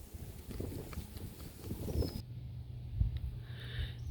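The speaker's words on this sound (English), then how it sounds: "Sorry for all the wind." Outdoors on a spring botany walk, gusty wind buffets the microphone with a steady low rumble that shifts abruptly halfway through, with no talk.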